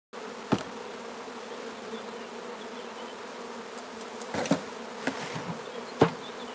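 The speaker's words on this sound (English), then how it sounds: "There's bees on everything." Honey bees swarm around an open hive during frame inspection, a dense continuous buzzing close by, with occasional knocks and clicks of hive equipment.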